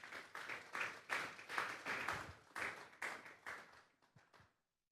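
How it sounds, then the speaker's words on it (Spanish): Church congregation at a Sunday service clapping in a rhythmic burst of about a dozen sharp claps that thin out and stop after four seconds. "Vamos a darle un fuerte aplauso pues al Señor"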